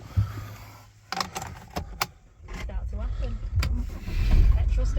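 Citroen C4 with 203,000 miles starting up, keys jangling and clicks, then the starter cranks and the engine catches into a steady idle that swells near the end; a voice is heard briefly.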